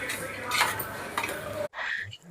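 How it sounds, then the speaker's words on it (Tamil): A spoon scrapes and stirs through vegetable kurma in a metal pot with coriander powder, garam masala and kuzhambu powder, making close, busy clinks and scraping with a soft sizzle underneath, then a sharp cut and a quieter final stir. "இதெல்லாம் சேர்த்து நல்லா கிளறிக்கோங்க"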